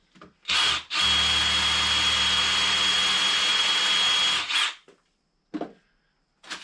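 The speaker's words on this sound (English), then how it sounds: "So let's give it a roll crimp." A roll crimper spins on a 12 gauge steel shot shotshell, making a loud, close, drill-like whir that runs steadily for about four seconds, then stops, followed by a couple of short clicks and handling noises.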